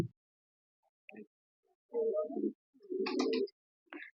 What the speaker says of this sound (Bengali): এ হচ্ছে আমাদের কবুতর এখন কবুতর সব রিলিজ করব